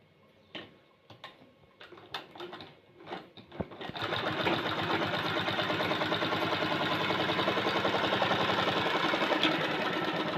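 A sewing machine stitching a lunch bag: a few soft clicks and taps at first, then a steady, fast, rhythmic mechanical whir of stitching running loud and close to the end.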